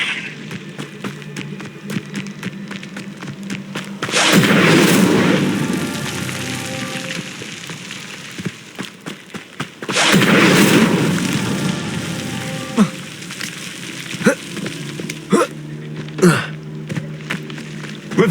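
Fiery Incendio spell blasts from Hogwarts Legacy gameplay: two loud, broad whooshing bursts a few seconds apart, each swelling then fading, followed by sharper smaller impacts over a steady rumbling game ambience.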